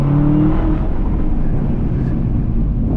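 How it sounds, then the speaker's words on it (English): Chevrolet Camaro ZL1 1LE with a manual gearbox accelerating hard through first and second gear, a loud, steady engine roar close by with rising tone early, tire slip not clearly separable from the engine noise. "you can hear the tires losing traction in first and second gear"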